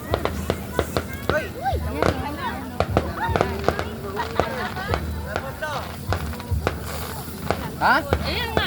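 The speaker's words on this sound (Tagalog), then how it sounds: "Kunin mo yung fireworks." Fireworks pop and crackle outdoors on a beach in Morong, Bataan, during an evening grill-out, sharp bursts scattered irregularly throughout amid people chatting and shouting nearby.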